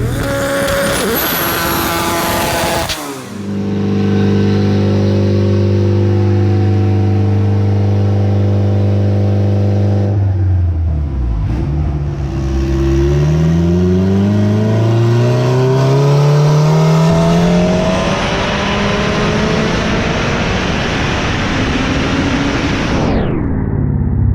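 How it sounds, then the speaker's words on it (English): A 600-horsepower Honda Civic on a dyno, its engine loud and close, holding a steady high rev before dropping and then climbing again through a long wailing pull, with no talk over it. "We're about to dyno a 600 horsepower Civic for you."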